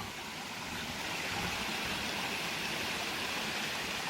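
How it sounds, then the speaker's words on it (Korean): Steady, full rush of valley stream water pouring into a pool at a forest campground, a continuous broadband wash with no pauses, close and fairly loud, with no voices. "계곡물이 시원하게 흐르는 웅덩이가 있습니다"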